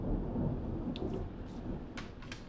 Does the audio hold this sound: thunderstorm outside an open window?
yes